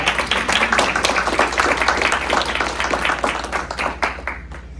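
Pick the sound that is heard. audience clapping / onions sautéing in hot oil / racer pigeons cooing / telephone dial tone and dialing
audience clapping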